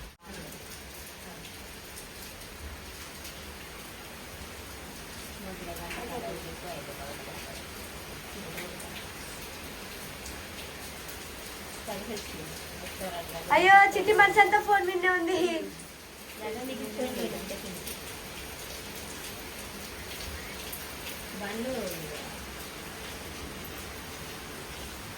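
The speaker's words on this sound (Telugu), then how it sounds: "వర్షం అయితే ఫుల్ పడుతుంది" Steady rain patters down throughout, with people talking intermittently over it and a louder burst of voices midway.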